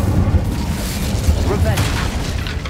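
An Incendio fire spell is cast in the Hogwarts Legacy video game, a dense rumbling whoosh and low boom that fills the whole moment at a loud, steady level.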